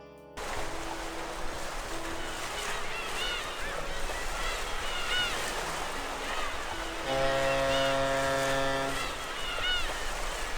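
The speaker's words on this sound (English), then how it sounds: "you can hear pelicans in the distance and occasionally the sound of a boat horn" Open-sea ambience from the fishing game Reel Fishing Angler's Dream: a steady wash of ocean noise with distant bird calls and a low, sustained boat horn sounding near the end.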